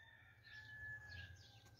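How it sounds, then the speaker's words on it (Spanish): A rooster crows faintly in the distance along a sunny street in Lomalinda, Cortazar, Guanajuato, a drawn-out call over low steady background rumble with no talk. "miren, allá está un gallo"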